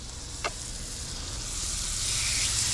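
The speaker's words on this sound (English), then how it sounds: "Pan's looking hot. Yeah, instant sear right there." Fish sears in melted butter in a hot pan on a grill, giving a steady, close sizzle and hiss that builds slightly louder over the few seconds, with no talking.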